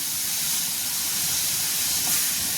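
Chopped tomatoes fry in a pan for vermicelli upma, giving a steady, loud, broadband hiss of sizzling oil that holds evenly throughout with no voices.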